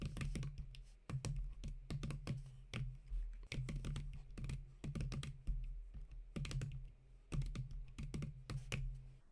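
Quiet, rapid typing on a computer keyboard, with bursts of crisp key clicks coming in short irregular runs separated by brief pauses, close and soft with no talking.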